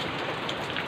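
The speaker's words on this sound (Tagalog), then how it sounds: "Ayan, orinig niya naman diba? Malakas ang ulan." Heavy rain pouring steadily onto surfaces, a dense continuous hiss with no gaps, heard alone and close for under a second.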